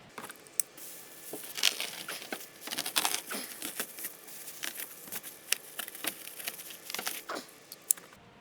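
A razor blade scoring a circle out of material during a grow tent install, heard close up as a run of small crisp scratching and crinkling cuts with irregular sharp ticks, alone with no talk.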